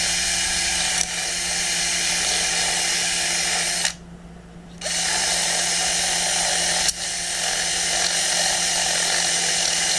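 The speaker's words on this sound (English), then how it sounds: "So I'm gonna drill this out just a little bit." Power drill boring out the latch hole in a boat hatch, a loud steady whine held for several seconds, stopping briefly partway through, then running again with a slight jolt as the bit bites.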